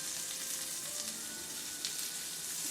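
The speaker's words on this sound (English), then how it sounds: "Gonna add just a little butter in here." Butter sizzles and fries steadily in a pan with potatoes, a close, even crackle that holds throughout with no voices.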